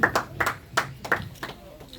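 A church congregation at a Sunday service claps in praise as they sit down, a loose series of sharp, fairly close claps spaced unevenly over a quiet room.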